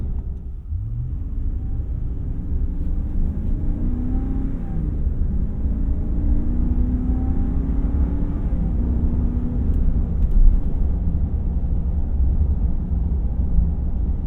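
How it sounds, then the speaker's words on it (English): The 6.4L HEMI V8 of a 2024 Ram 2500 Rebel heavy-duty pickup while driving: a steady, deep engine drone heard from inside the cabin, with no talk. "I could listen to that V8 all day long."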